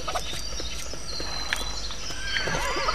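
Horses neighing and whinnying with clip-clop hooves in the Lego City Undercover video game, several whinnies over a steady ambient bed, fairly close and clear throughout.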